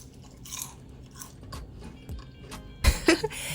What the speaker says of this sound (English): Now listen in for this crunchiness.